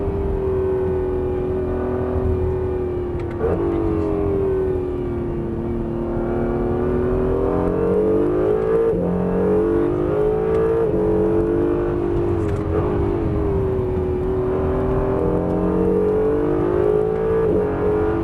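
Honda NSX lapping the Estoril race circuit, its engine a steady, close, continuous drone whose pitch swells and dips as the car brakes and accelerates through corners.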